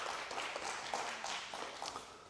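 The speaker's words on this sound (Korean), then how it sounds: "박수로 환영하겠습니다." Church congregation at a Sunday service applauding to welcome members back, with soft, diffuse clapping from a gathered crowd, moderately faint and continuous.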